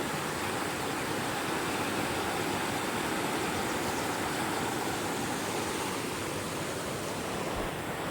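Loud, steady rush of floodwater from the first heavy flow of the season carrying debris, a dense continuous roar filling the whole clip with no pauses.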